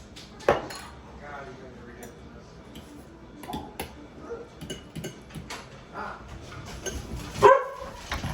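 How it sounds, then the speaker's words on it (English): Dogs bark and fuss in a home kitchen during holiday meal prep, sharp loud yelps near the start and end over clinking dishes, cutlery and pots. "our dogs are freaking on one tonight"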